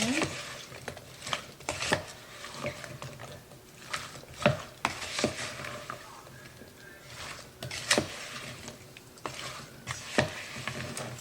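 Chicken being mixed with salt and pepper in a bowl, soft wet stirring and slapping with occasional light clinks of utensil against the dish, steady and close in a quiet kitchen.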